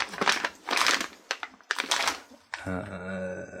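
Plastic parts bag from an RC crawler transmission kit crinkled and rustled in hand in short close bursts, followed by a softer steady tone at the end.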